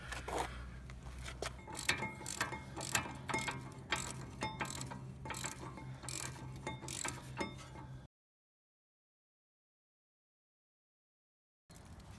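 Ratchet wrench tightening brake caliper bracket bolts on a Ford F-150, rapid clicking pawl strokes in quick repeated bursts close by, then silence before a brief return.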